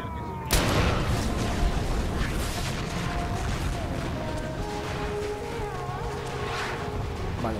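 In the video game Far Cry 4, a sudden loud gunshot blast rings out, followed by a long echoing tail and rumbling game ambience, with faint in-game sounds layered after it.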